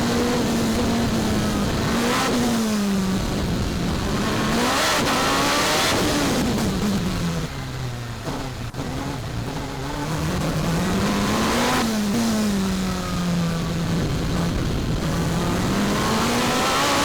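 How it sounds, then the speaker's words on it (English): A Nicholson McLaren V8 powered Gould hillclimb race car screams loudly up a course, its engine note rising and falling repeatedly through gear changes and revs over several seconds, with no talk. "let's take a trip with Paul Ranson in his Nicholson McLaren V8 powered Gould"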